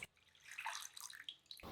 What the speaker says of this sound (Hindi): 1 गिलास पानी डालें